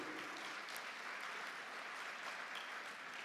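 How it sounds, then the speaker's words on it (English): Steady, dense applause from an audience at the opening ceremony of the World Trade Centers Association's 53rd General Assembly, sustained without a break and free of talk. "Once more, a round of applause."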